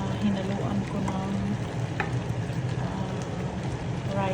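Mixed vegetables with rice fry in a pan, a steady close sizzle and crackle running continuously with light stirring, while a person talks over it.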